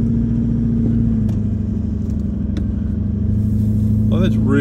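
Car engine rumbling gently and evenly in first gear at low revs on an off-road outback track toward Poeppel Corner, a steady close drone with faint creaks, and a person speaking near the end.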